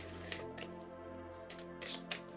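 A small mini Moonology oracle card deck shuffled by hand, a few soft papery riffles and flicks in short bursts over a steady low electrical hum, close and quiet, with no talking.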